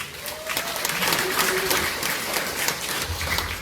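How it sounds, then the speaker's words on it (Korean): Audience applause opens a tenor saxophone concert at a book-launch celebration for a former four-term lawmaker, a dense, steady wash of many hands clapping in a hall, sustained and fairly loud throughout. "여러분의 큰 박수로 그 막을 올리겠습니다"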